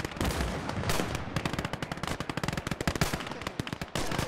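Dense, rapid gunfire from the video game Call to Arms: Gates of Ostfront, machine-gun bursts crackling continuously in quick repeated cracks, loud and close with no talking.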